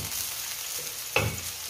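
Aromatics sautéing in hot oil for Taiwanese-style seafood fried rice noodles, a steady close sizzle with a brief spatula scrape partway through, no voices.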